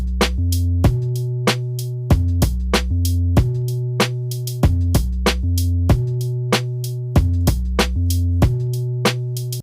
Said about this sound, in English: now it's only a kick, snare, hi-hat and a bass line